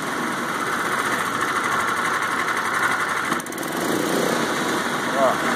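A Honda GX160 engine fitted with a quiet-pack silencer muffler runs at full throttle, a steady loud close-up drone with a constant mechanical buzz and no pauses.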